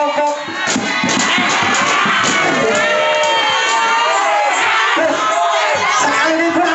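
Girls' team of children at a school event cheering and shouting together, a loud continuous wall of high voices with whoops, sustained throughout.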